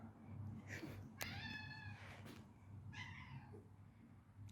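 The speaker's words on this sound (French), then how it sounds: "les 2 petits chats là-bas qui chouinent" Two small cats meow plaintively indoors, wanting to be let out: a few separate harmonic meows close by, one sharper call followed by a drawn-out whiny one, over a low steady room hum.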